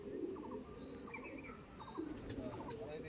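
Madras pigeons coo softly in a village loft, several low murmuring calls repeating close by over a quiet background, with faint chirps mixed in.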